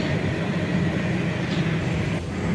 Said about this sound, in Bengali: ট্রেনটি ঢাকা থেকে ছেড়ে দিল সঠিক সময়ে।